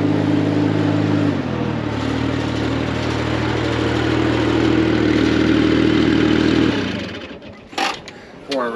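A loud, steady engine runs with a low mechanical drone and clatter for several seconds, then cuts off abruptly and a few faint voices follow.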